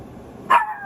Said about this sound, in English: Sorry about the dog barking, you guys.